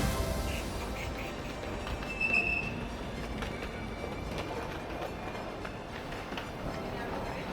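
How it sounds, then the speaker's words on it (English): A RegioJet intercity train from Prague to Budapest-Deli rolls in from a distance, a faint rumble with occasional wheel squeals and clatter. "the train is coming in, a RegioJet intercity service from Prague to Budapest-Deli"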